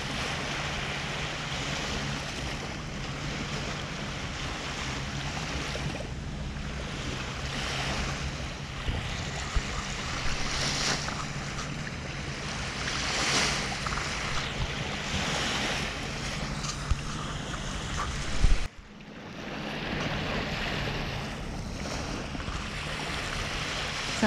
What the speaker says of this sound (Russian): а иногда прям вон какие волны